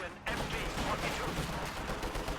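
Rapid, dense gunfire crackles from a Company of Heroes battle near a bunker, with overlapping bursts forming a steady, loud barrage that begins abruptly and continues without pause.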